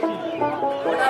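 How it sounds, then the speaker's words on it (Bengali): Chickens at a village livestock market cluck in a dense, overlapping chorus up close, with faint voices mixed in. "এই মুরগিগুলোর নাম হচ্ছে টার্কি"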